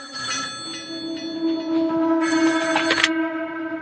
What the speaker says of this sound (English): she had gotten a phone call from Jackie.